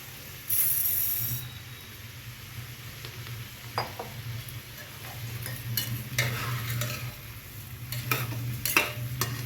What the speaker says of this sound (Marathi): एक पाच मिनिट परतून घेऊया